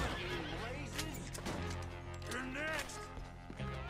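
Horses neigh and whinny over a dense video game soundtrack with music and effects, the high wavering calls rising clearly a few times.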